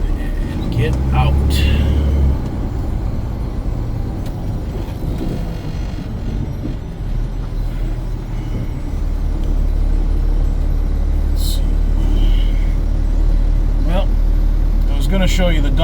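A loaded dump truck runs with a steady low engine drone, with short hissing air-brake bursts near the start and middle, while someone talks over it.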